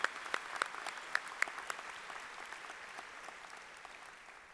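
Audience applause at a spring university commencement ceremony, steady clapping from a large crowd in a hall, with a few sharp nearby claps standing out early before it settles into an even, fading patter.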